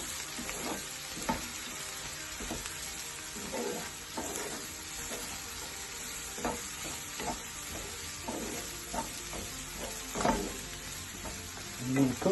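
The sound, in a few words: spring onions frying and being stirred in a pan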